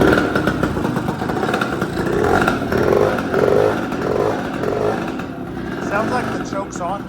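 A Tao Tao 110 engine running with the choke on, a loud close motorcycle-style drone with uneven revving and some clatter, continuing under speech through most of the stretch.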